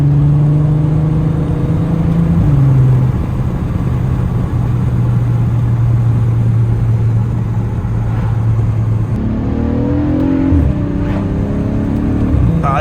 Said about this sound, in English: The motor really screams, especially with the exhaust.